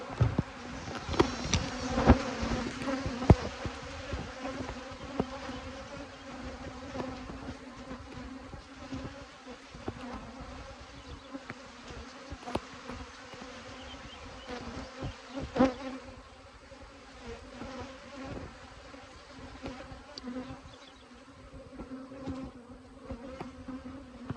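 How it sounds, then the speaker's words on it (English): Aggressive honey bees from a robbing-troubled colony buzz steadily around an opened hive, a dense continuous drone lasting throughout with occasional louder close passes near the listener. "Same thing with these aggressive bees."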